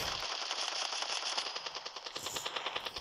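Rapid rifle fire in a video game rattles out in fast automatic bursts, a dense string of sharp, evenly spaced shots that grow more distinct toward the end.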